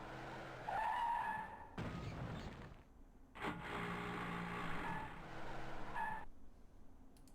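A hellcab's tires skid and squeal in two long screeching bursts separated by a brief engine rush, fairly quiet and with no talking, in the Better Dead Ratification video game.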